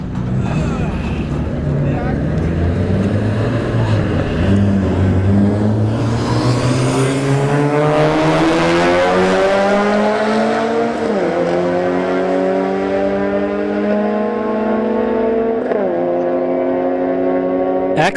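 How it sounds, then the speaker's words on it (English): An Acura Type S and a BMW X3 launch side by side at a street-heat drag strip test-and-tune at Bradenton Motorsports Park. Their engines roar loudly and climb in pitch through several gear changes while an announcer talks over them. "we got an Acura RS6 Type S left lane and a BMW X3 in the right"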